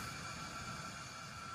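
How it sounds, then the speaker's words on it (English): A faint, steady hiss of pressurized carbon dioxide rushing through a wellhead pipe, constant and unbroken throughout. "The noise you hear is the flow of gas."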